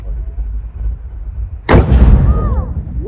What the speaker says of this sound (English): There is an artillery salute to welcome you all to Michilimackickinac.